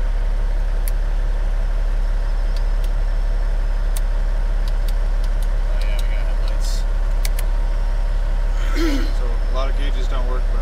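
A 1997 Kenworth T800 semi truck with a CAT 3406E engine and an 18-speed transmission drones steadily and low from the cab while the driver downshifts, with a few sharp clicks and rattles over the constant diesel rumble.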